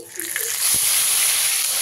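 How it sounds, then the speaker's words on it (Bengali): Onion paste drops into hot oil with five-spice for a village-style prawn and plantain curry, and a loud, close sizzle swells after a soft start, then holds as a bright, steady hiss. "আর হালকা হালকা ভাজা হয়ে গেলেই এর মধ্যে দিয়ে দিতে হবে পেস্ট করে রাখা পেঁয়াজ"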